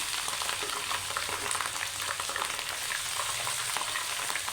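Onions browning in a pan with ginger garlic paste for a mixed vegetable dish give a dense, continuous sizzle and crackle, close and even throughout, with gentle stirring and no voices.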